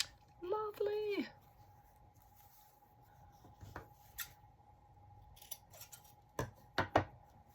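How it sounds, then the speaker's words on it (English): Scissors are set down on a table during a journal-making craft session, giving a few quiet clicks and clacks near the end after a brief voice early on. "Trying to be quiet when I put my scissors down so they don't slam."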